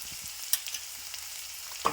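Onions frying with turmeric powder in a pan give a quiet steady sizzle, with a couple of faint clicks as they are stirred.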